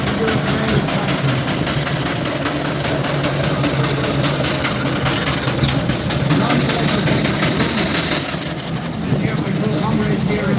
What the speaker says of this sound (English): I have the tractor into the arena and we'll have to do it today with tractor.